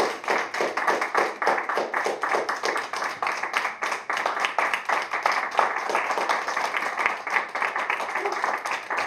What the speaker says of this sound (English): One more round of applause for this fellow.